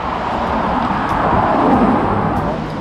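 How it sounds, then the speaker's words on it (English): Steady, loud roar of road traffic in Kanazawa, Japan, with cars rushing by close at hand, a continuous wash of engine and tire noise. "Why are cars so fucking loud?"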